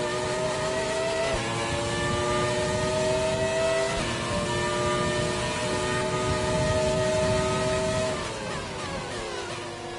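A Williams FW18 Formula 1 car engine lapping Suzuka circuit in an exhibition race, a loud sustained high-pitched whine rising through gears with shifts, steady and close, no talk.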